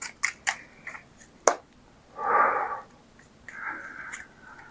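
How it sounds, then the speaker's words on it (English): Tarot cards being shuffled by hand, with a few sharp taps and snaps of the deck, a short riffling whoosh, then softer sliding card sounds, close and clear with no talking. "So I'm going to shuffle the cards like this."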